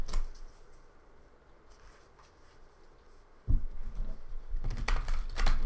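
A deck of tarot cards shuffled nearby, quiet at first, then louder brisk riffling and tapping bursts in the second half, with no voices.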